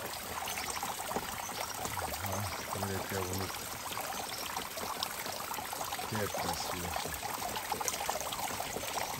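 Water trickles and pours steadily from a natural spring seep in El Salvador, a continuous close splashing wash running throughout while people talk over it.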